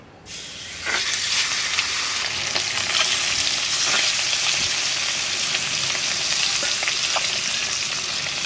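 Pieces of snakehead (shol) fish fry in hot oil, a steady close sizzle and hiss that starts just after a quiet first second, with faint crackles and stirring throughout and no voices.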